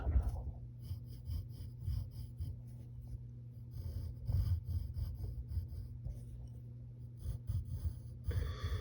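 Pencil scratching on paper while sketching Buzz Lightyear's eyelids, a soft steady stream of short strokes and rubs, close and quiet, with no talking.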